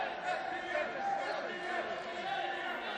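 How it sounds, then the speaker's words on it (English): A Hazleton wrestling crowd sustains a loud, even roar of cheering and shouting voices, filling the space with no break. "SPF getting a big crowd reaction here in Hazleton."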